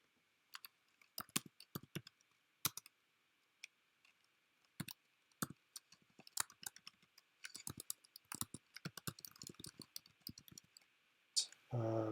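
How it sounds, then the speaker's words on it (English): Quick, irregular clicks of fingers typing on a computer keyboard, light and close, in uneven bursts with short pauses between. "I'd start typing in the meanwhile."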